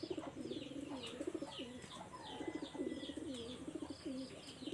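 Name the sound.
racing pigeons flying over the loft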